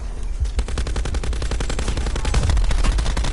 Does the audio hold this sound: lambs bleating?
no